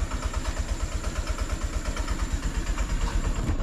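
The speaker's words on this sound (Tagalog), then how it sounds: "So ito yung gagamitin nating motor, Honda Click 125" A Honda Click 125 motor scooter idles close by with a steady, rhythmic low putter pulsing evenly throughout, no talk.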